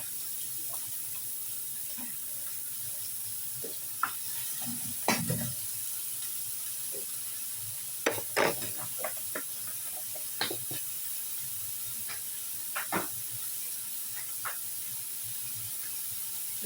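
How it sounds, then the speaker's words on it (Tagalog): Chopped onion and garlic sautéing in a little oil while cooking breakfast: a steady low sizzle runs throughout, broken by occasional sharp spatula scrapes and clinks against the pan. "Ayan, binigisa ko na ang sibuyas at bawang."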